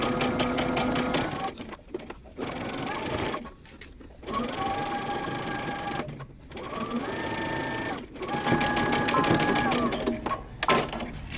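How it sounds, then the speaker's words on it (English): A sewing machine stitches a moto jacket seam at a 5/8-inch seam allowance, running in several steady bursts separated by short pauses. "We're going to stitch using 5/8 of an inch seam allowance."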